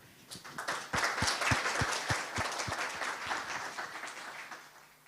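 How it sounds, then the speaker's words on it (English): A conference audience at a web engines hackfest applauds after a talk, a steady wash of clapping from many hands with a few louder individual claps standing out, sustained throughout. "can we have a huge round of applause?"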